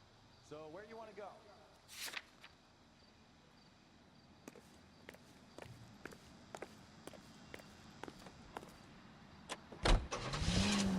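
A car drives along in the L.A. Noire video game, a low steady engine hum under a voice talking, with a run of sharp clicks and taps and a louder burst near the end.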